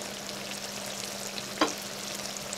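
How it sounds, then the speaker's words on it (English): Tomato passata frying with venison meat for a curry produces a soft, steady low sizzle, close and fairly quiet, with one brief clink or scrape near the middle and no talking. "Fry them with the meat."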